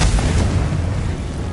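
A Confringo spell explosion in Hogwarts Legacy: a loud, sustained, rumbling boom that fills the short moment and then slowly fades, with no talking.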